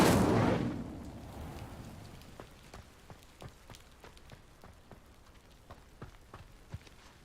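A fire spell cast in Hogwarts Legacy bursts loud and broad for under a second, then settles into steady crackling pops that keep snapping for several seconds.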